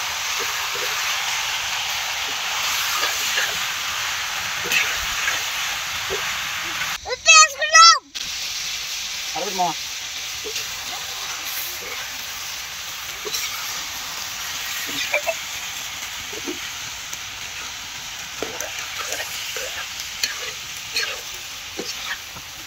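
Chicken for shawarma frying in a pan in a village kitchen, a continuous loud sizzle with stirring scrapes, interrupted once by a brief burst of clattering; voices talk intermittently over it.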